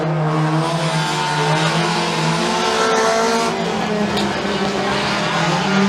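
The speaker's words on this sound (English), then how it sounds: "now side by side down the front straightaway, drag racing all the way into turn 1" Mini stock race cars roar down the front straightaway at an oval raceway, engines droning loud and sustained with shifting tones as several cars run side by side past the listener.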